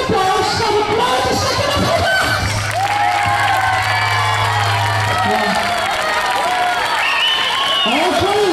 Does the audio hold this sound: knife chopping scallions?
no